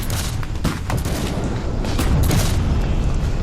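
Heavy enemy gunfire at the battle of Gettysburg: a dense, continuous roar of musketry and booming shots, loud and unbroken throughout with sharper cracks poking out of the din.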